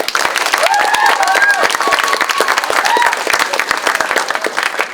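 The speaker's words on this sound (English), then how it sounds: "Let's give a big round of applause" Steady round of applause from an audience at a school MakerSpace dedication, dense clapping filling the room for about five seconds, with a few cheers and voices mixed in underneath.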